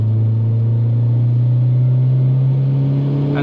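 A big-turbo 8V engine in an MK4 VW Jetta Wagon pulls steadily in third gear, its low, loud drone rising slowly in pitch with a faint hiss near the end, heard from inside the car.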